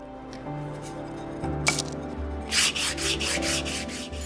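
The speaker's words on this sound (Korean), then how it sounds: "동봉된 나무 조각을 대고 사포를 하면 편리합니다." Dry scratchy rubbing of sandpaper wrapped on a wood block against a wooden tray handle in several short strokes, close by, with a faint steady hum underneath.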